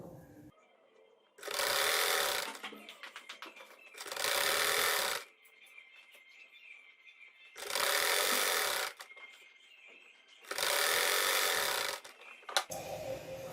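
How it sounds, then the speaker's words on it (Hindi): A sewing machine runs stitch lines along a salwar poncha (cuff) for a plates and bow design, in four steady whirring bursts separated by short quiet gaps, moderately soft and close. "अब हम इसको सिलाइयां लगा रहे हैं।"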